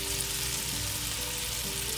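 Bananas frying in butter in a pan give a steady, close sizzle and crackle throughout, with no talking.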